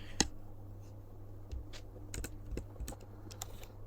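Computer keyboard typing, with scattered quick keystrokes and short clusters of taps at a modest level over a low steady hum, and no speech.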